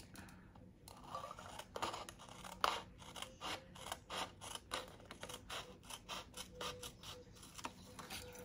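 Scissors cut through cardboard for a Happy Meal box, giving a close, quiet series of crisp snips and scraping crunches in a fairly steady rhythm, with no talk.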